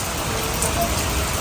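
Light drizzle falls outdoors, dripping from the roof eaves as a steady, even patter.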